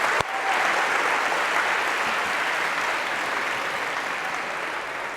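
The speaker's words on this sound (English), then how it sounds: "a round of applause for Sahar." A lecture-hall audience at a computer science class applauds after a volunteer finishes a demo, a dense, steady wash of clapping that holds for about five seconds and fades slightly at the end.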